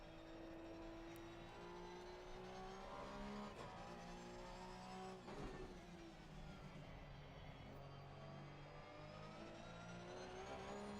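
Race car engine on the Spa circuit in a racing video game, a sustained high-pitched drone rising and falling through gear changes and braking, heard alone and fairly quiet.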